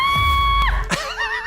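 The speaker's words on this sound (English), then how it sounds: "She screams a lot." A woman on a reality TV show screams, a sustained high-pitched shriek that cuts off abruptly, followed by a brief gasp and a shakier wavering cry, loud and close.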